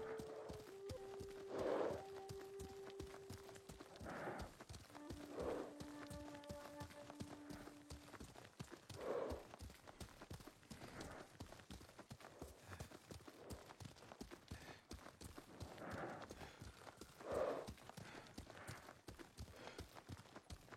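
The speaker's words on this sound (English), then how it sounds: "Sakai taught me to ride a horse." Horse hooves clip-clop at a steady, even walking rhythm while riding in a video game, moderately faint, with soft musical tones sounding in the background.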